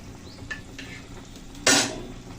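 Ginger paste is added to boiling water in a cooking pot: a couple of light utensil clinks, then a short, sharp sizzling splash that quickly fades back into a low bubbling.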